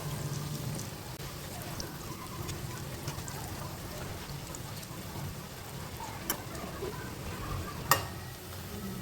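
Vegetable pakoras made with cabbage sizzle steadily in hot oil as their second side fries, a soft continuous crackle with a couple of sharper pops near the end.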